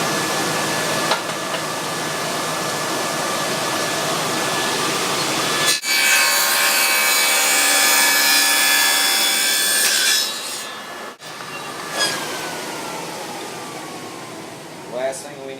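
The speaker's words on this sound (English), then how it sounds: "that's cut a dado into the end for the topper" Cutting a dado into the end of a wooden beer tap handle, with a steady broadband saw or router whine that runs about five seconds mid-clip and is bracketed by softer workshop noise and talk.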